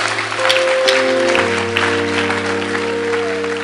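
Congregation applause at a Christian youth sermon, a dense, steady clapping wash lasting several seconds over sustained keyboard chords.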